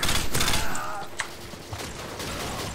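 Gunfire in the Modern Warfare 2 multiplayer video game, with a burst of loud close shots followed by a single sharper blast over steady game noise.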